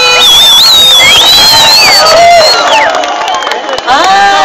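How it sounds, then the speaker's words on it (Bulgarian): Outdoor concert crowd in a Bulgarian village cheering loudly, with shouts and whistles rising over clapping and amplified sound, sustained and energetic throughout. "Аплодисменти за тази прекрасна заря всички!"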